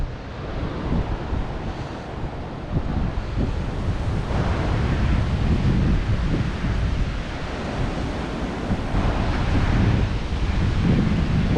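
Steady surf rolls in along a black sand beach at Puerto San José, Guatemala, near a stone breakwater and boat channel, a broad continuous wash of waves with wind buffeting the microphone throughout and no voices.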